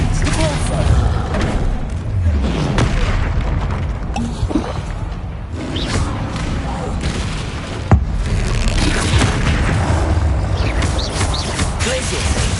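Spell blasts in the video game Hogwarts Legacy arrive as continuous booming impacts, thuds and crackling bursts, dense and loud through the whole stretch, with a voice calling out spells over the action.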